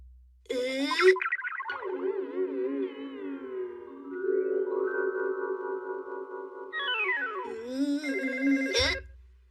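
A cartoon telephone rings in a Hindi-dubbed Shinchan episode, playing a bright, warbling electronic ringtone with sliding tones that runs for about eight seconds on its own before cutting off.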